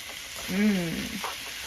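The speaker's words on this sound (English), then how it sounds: "We're going to go ahead and add the beef. You hear that nice good sear?" Beef searing in a hot pan gives a steady close sizzle, with a short tonal swell partway through over the constant crackle.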